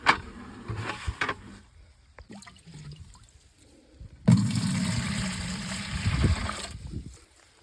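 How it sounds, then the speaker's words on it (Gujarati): Water running from an outdoor tap on a farm, with gushing and splashing that comes and goes at first, then a louder steady flow filling a container up close. "અહીંયાથી આપણે પાણી ભરવાનું છે નળ છે એમાંથી ભરવાનું છે"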